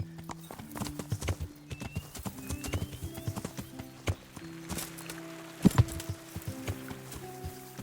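Irregular hoofbeats clop along at a walking pace, close and fairly loud, with a brief horse snort or whinny among them, from the video game Kingdom Come: Deliverance.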